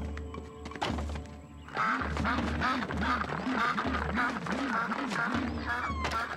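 Repeated nasal duck quacks ring out in a rapid rhythmic series over busy, cartoonish background sounds, loud and close.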